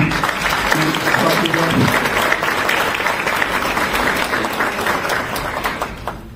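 A forum audience in Paris breaks into sustained applause, a loud, dense wash of clapping that carries on steadily and fades slightly at the close, with a voice briefly audible early on.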